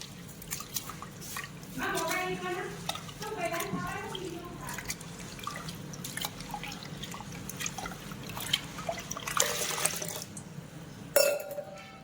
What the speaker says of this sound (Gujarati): ચાલો અને ધોઈ દઈએ બરાબર પાણીમાં